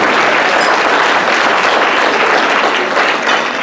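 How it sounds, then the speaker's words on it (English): Loud, dense applause from a conference audience at a national lived experience leadership conference, with sustained clapping filling the room and no talk. "please give yourselves a round of applause for that"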